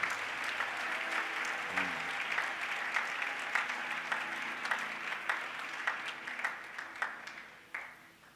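A church congregation claps in praise, a dense, even round of applause that holds steady and then tapers off near the end, with no speech over it.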